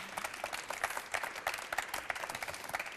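Audience applauding a guest arriving on a talk show, with brisk rhythmic clapping from a crowd, individual claps distinct and fairly close, steady throughout.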